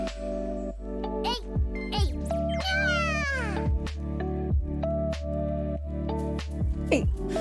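A cat in a cave-exploring game meows several times, rising and falling cries over a steady low hum, with game blips and faint jingles around them.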